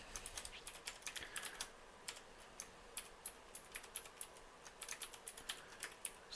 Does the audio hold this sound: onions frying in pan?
no